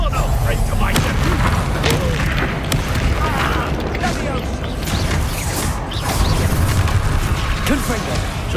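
Repeated spell explosions from the Confringo curse in the Hogwarts Legacy video game boom and crackle loudly and continuously amid dense combat noise, with a voice shouting over the blasts.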